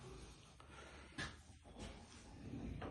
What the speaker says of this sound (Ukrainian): Розсувні двері на доводчиках на обидві сторони.